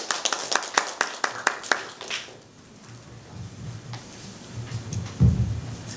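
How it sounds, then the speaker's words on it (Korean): Scattered claps from a small audience at a Korean academic conference session, a few sharp separate claps that quickly thin out, followed by quieter room noise and a low thump. "큰 박수를 부탁드립니다."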